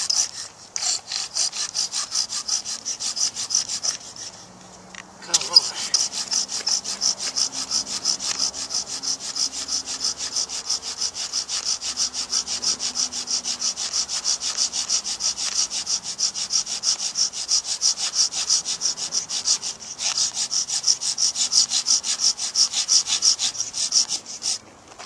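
A bow drill made from a chopstick spins a wooden spindle with a fast, continuous back-and-forth rasping friction that stays steady for the whole stretch, with one short pause near the start.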